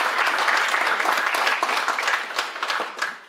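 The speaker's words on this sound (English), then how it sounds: "May we please give out" Warm applause from a conference audience honoring awardees, steady dense clapping sustained throughout and tapering slightly near the end.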